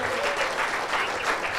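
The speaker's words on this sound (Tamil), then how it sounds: "அதுக்கே ஒரு கைத்தட்டல் கொடுத்துடலாம் எல்லாருமே" An audience claps together in a sustained, even burst of applause for a short stretch, moderately loud with no voices standing out.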